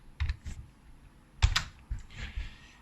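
Keystrokes on a computer keyboard while entering a line of code, several quick clusters of clicks with short pauses between them, close and fairly quiet, no talking.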